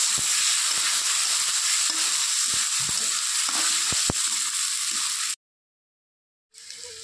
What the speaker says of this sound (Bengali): একটু ভেজে নেব আলুর সঙ্গে